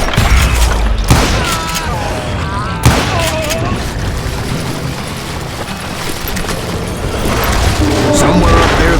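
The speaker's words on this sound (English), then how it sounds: "a fusillade of bullets come raining down from on high" Gunfire in the western shooter game Call of Juarez: Gunslinger: a loud, dense fusillade of shots raining down from above, with sharp booming cracks and thuds over a busy battle din.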